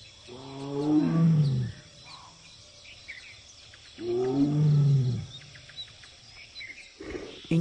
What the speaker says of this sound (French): Il tente d'en attirer une avec ses rugissements.